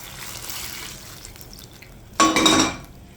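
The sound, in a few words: pouring boiling water on breadfruit in pot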